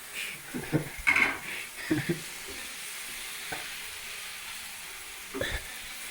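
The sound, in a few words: pasta and mushrooms sizzling and stirred in a pan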